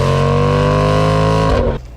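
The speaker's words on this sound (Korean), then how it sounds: "시동을 걸 때부터 엔진 사운드가 아주 강한 존재감을 뿜어냅니다" A Jaguar F-Pace SVR's supercharged 5.0-litre V8, rated at 550 hp, roars loudly and close at a steady idle-to-rev rumble, then cuts away sharply near the end.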